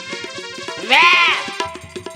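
A human voice imitates a cow's drawn-out, bleating call in a Bengali puppet show, a loud rising-and-falling cry over rhythmic clicking and shuffling sounds.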